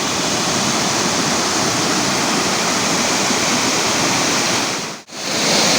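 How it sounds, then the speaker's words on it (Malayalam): Water rushing powerfully down Choriyankunnu waterfall after flowing out of a canal, a loud, dense, unbroken roar heard up close, with a brief dip near the end. "ഇത് താഴേക്ക് ഭയങ്കര ശക്തിയോട് കൂടിയിട്ട് ഒഴുകുന്നുണ്ട്"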